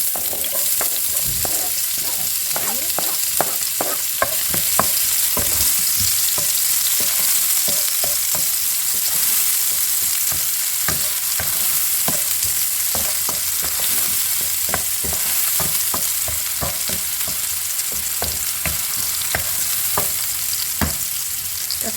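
Sliced onion, chili and garlic sizzle loudly in a hot oiled pan while a spoon stirs them, with steady frying hiss and rapid scraping clicks throughout. No one talks.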